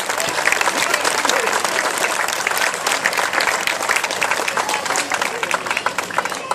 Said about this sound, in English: who I think deserve a round of applause for that